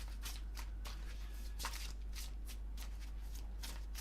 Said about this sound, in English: I just need to give them a good shuffle with being new